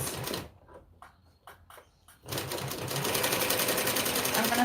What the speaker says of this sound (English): I'm going to sew up to here.